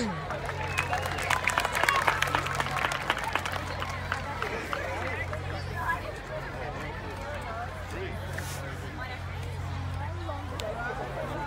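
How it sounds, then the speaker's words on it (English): Applause and crowd noise from a theater audience greeting performers' entrance, with clapping strongest early and then fading into murmuring and babble as people talk. "Please give a round of applause"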